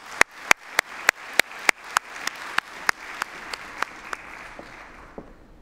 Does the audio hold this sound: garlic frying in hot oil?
no